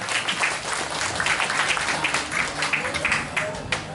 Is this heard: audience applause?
yes